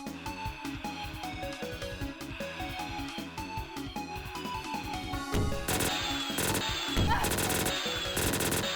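Rapid bursts of gunfire from the video game Doom, a dense run of loud shots over game music, growing into heavier, crashing fire with explosions toward the end.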